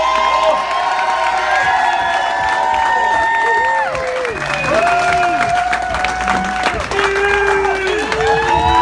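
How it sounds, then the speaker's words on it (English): A comedy club audience applauds and cheers loudly as comedian Erin O'Donnell is welcomed on stage. Sustained clapping and whoops fill the room alongside tonal music or voices. "wonderful, wonderful round of applause"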